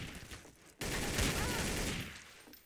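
Gunfire in the Trouble in Terrorist Town game: a loud, sustained burst of rapid shots that starts abruptly and runs for about two seconds, fading slightly at the end, with faint voices underneath.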